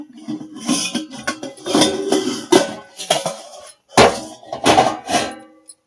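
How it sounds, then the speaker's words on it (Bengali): An egg yolk is beaten in a bowl with a utensil, giving bursts of clinking and tapping against the bowl in uneven clusters, close and fairly loud, with short pauses between strokes and no talking. "এটা ভালো করে ফাটিয়ে নিচ্ছি ডিমটা।"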